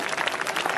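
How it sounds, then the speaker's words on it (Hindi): An audience at a school event claps to welcome a student performer, a dense burst of applause from a crowd, steady and fairly loud throughout the brief moment. "एक जोरदार ताली के साथ आप बच्चे का स्वागत करें।"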